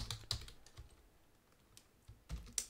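Keys on a computer keyboard are tapped in short irregular clusters, close and quiet, with gaps between bursts.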